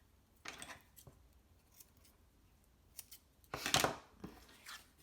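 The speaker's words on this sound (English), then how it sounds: "We're going to cut a piece to put across." Scissors snip through a piece of tear tape in a crafting session, giving a few short crisp cuts, with the loudest snip near the end, heard alone and close.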